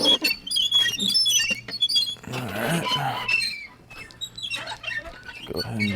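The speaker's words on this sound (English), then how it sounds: "Damn squeaky wheel. This wheelbarrow's old." An old wheelbarrow's wheel squeaks over and over with a rhythmic, rusty creak as it rolls on a farm, mixed with clatter and some movement noise nearby.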